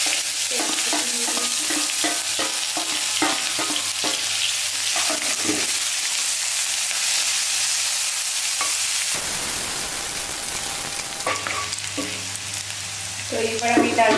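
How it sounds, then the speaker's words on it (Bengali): Bay leaves and onion hitting hot oil, a loud continuous close-up sizzle with clinks of a spatula against the pan, briefly easing midway before surging again. "তো এবার আমি তেলের মধ্যে দিয়ে দেব তেজপাতা, আর দিয়ে দিচ্ছি পেঁয়াজ।"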